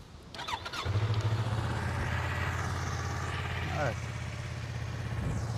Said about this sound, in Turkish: Hemen motoru bir çalıştıralım.